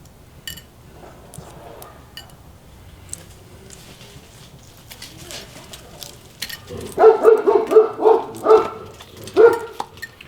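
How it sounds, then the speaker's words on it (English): A dog barks repeatedly in a quick, loud burst of several barks, fairly close, after a stretch of quieter background noise. "And neighbor's dog decided to bark."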